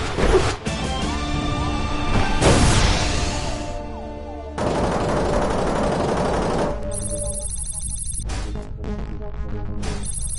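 Enemy ship gunfire in the spaceship shooter Galak-Z comes as loud crashing bursts and sustained blasts with sweeping tones, broken by short gaps and ending in quick electronic stutters.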